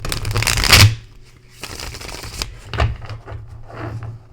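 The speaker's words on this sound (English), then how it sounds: "And I shuffle." Tarot cards are shuffled close by in quick riffling bursts, one loud burst first followed by several softer ones, with no speech.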